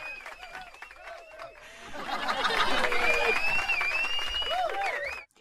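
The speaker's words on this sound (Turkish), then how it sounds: "Aynen, alkışların hepsi sizlere abi." Applause and crowd cheering in the online game Knight Online, swelling from light clapping into a sustained loud round with scattered chuckles and whistles, fading out at the end.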